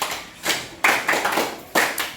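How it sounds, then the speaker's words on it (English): A few students in a lecture hall clap for a classmate's question during a talk on drug and substance abuse. The sparse, uneven bursts come in about four groups of sharp, close hand claps, with pauses between them. "Clap for her for that question."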